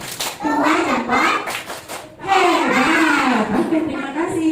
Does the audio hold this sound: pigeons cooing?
no